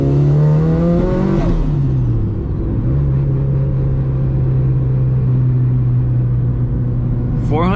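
A Mitsubishi Lancer Evolution 8 of about 400 horsepower pulls away from a stop sign. The engine revs up loudly, drops briefly at a gear change, then settles into a steady, strong drone close by.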